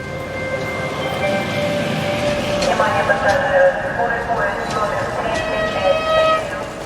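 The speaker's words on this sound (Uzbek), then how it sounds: "poyezd kelyapti" A train rumbles in with steady mechanical noise and tonal squeals, while people talk over it throughout.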